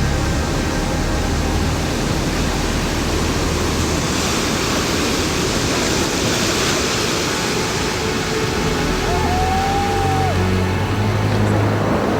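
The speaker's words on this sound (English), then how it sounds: "the water has gone completely wild, sweeping the road away" Floodwater runs wild over a mountain road in stormy Kham weather, a steady loud broadband roar of rushing water filling the whole scene without a break, with a faint engine hum underneath toward the end.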